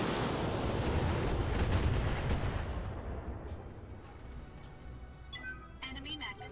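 Heavy mech weapons fire on a Hunchback in the BattleTech Roguetech video game, a dense booming barrage of blasts and rumbling impacts that slowly fades, with some speech.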